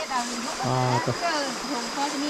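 Water flows steadily in a forest stream, a constant rushing wash close by while people talk over it throughout.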